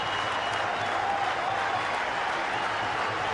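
A cricket crowd and players applaud a batsman's fifty at Sharjah in a 1999 Pakistan–India one-day international, steady dense clapping throughout with no voices.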